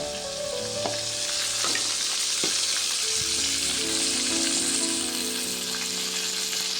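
Brinjal (eggplant) frying in a pan with small onions, chili powder, salt and coconut powder gives a steady, close sizzle with occasional stirring clinks, heard alone without talking.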